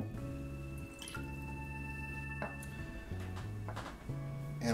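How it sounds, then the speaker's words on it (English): Vodka is poured into a cocktail: brief dripping, trickling liquid sounds, fairly close and soft, with a steady tonal background. "I'm going to add 30 milliliters, or about 1 fluid ounce, of vodka"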